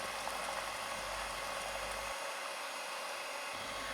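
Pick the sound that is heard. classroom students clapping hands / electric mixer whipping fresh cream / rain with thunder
electric mixer whipping fresh cream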